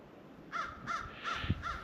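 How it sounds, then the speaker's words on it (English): Four harsh crow caws in a steady, evenly spaced rhythm, moderately close, heard outdoors in a bleak winter setting with faint background noise between calls. "how do those crows survive in this harsh winter? You can hear them calling."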